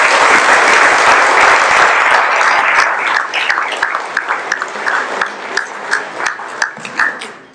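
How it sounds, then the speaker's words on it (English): An audience applauds at a Rotary award ceremony, loud dense clapping from a crowd that thins into scattered, individual claps toward the end. "Let's give him a big round of applause"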